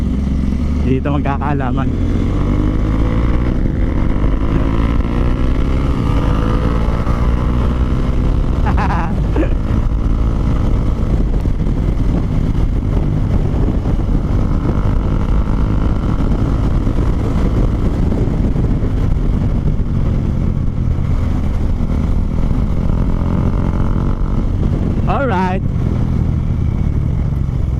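A loaded Yamaha Mio motor scooter riding fast: a loud, continuous engine drone mixed with wind rush throughout, while a rider's voice talks over it.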